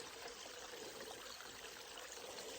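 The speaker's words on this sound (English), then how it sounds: "This little creek running alongside the trail, and it's beautiful." Small creek flowing beside a forest trail, a steady, even broadband rush of running water that holds constant and fairly close throughout, with no voices.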